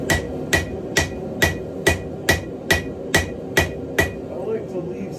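A hammer strikes hot steel on an anvil, working the bevel of a hand-forged meat cleaver or Bowie knife: about ten loud, close, sharp metallic blows at a steady rhythm of roughly two per second.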